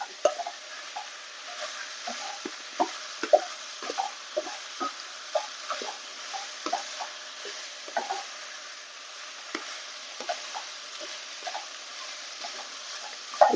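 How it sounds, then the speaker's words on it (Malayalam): A chicken stew with lemon juice just added is stirred in an open pot, the spoon scraping in steady, irregular clicks and taps over a soft, constant bubbling hiss, close and moderately loud, with no voices. "ഇത് തുറന്നു വെച്ച് തന്നെ കുറച്ച് നേരം ഒന്ന് ഇളക്കി യോജിപ്പിക്കണം."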